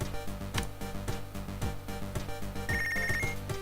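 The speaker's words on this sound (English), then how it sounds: "Oh, my phone is ringing." A telephone rings in the video game Punch Club, its rhythmic bell repeating over quiet game background sounds, with a brighter electronic tone entering near the end.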